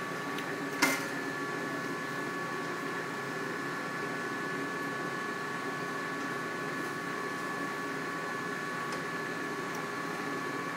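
A pasta machine pressing cheese-filled ravioli hums steadily with a constant mechanical whir and tonal drone, a single sharp clack early on, otherwise an even, moderately quiet running sound.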